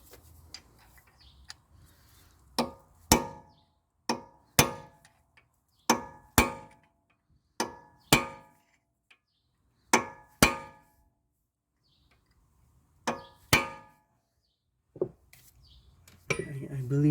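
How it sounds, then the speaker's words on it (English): Metallic hammer strikes stake the axle nut on a 2005 Toyota Corolla 1.8 during front wheel bearing work, landing as a dozen or so sharp, ringing blows in uneven pairs and singles, close and loud. "We're going to stake the axle nut now."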